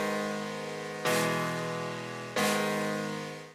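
A grand piano factory preset from the Serum synthesizer plays two sustained chords with sharp attacks that slowly fade, in a drum and bass context, close and clean with nothing else in the mix.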